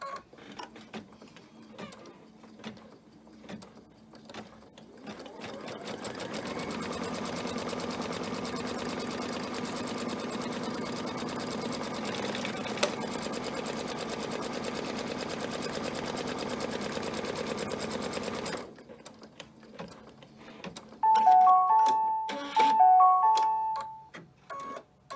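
A sewing machine runs steadily for about twelve seconds stitching fabric pieces for a Fourth of July flag banner, a fast even whirring with ticking bursts before and short clicks after it stops.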